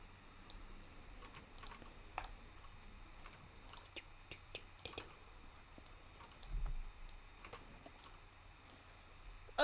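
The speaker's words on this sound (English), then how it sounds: "I can hear you typing." Computer keyboard keys clacking in irregular bursts, faint and fairly close, with a few louder taps standing out against a quiet room hum; nobody speaks.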